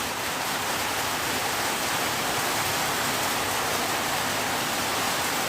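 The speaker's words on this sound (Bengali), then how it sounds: "প্রচণ্ড বৃষ্টি। দেখেন বৃষ্টি।" Heavy rain pours steadily, a dense unbroken hiss that stays loud and even with no other sounds standing out.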